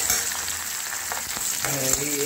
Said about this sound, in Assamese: এতিয়া মই এইখিনি ভাজি আছোঁ